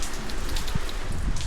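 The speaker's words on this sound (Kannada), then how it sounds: "ಫುಲ್ಲು ಮಳೆ" Heavy rain comes down in a steady hiss with scattered droplet taps and a few soft thuds on nearby surfaces, continuous and fairly close.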